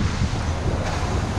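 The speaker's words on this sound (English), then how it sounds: "Man, it's a cloudy day. It's a little windy" Wind gusts hard at a cloudy shore in Jamaica, a loud, rough rumble of buffeting air that runs the whole moment with no one talking.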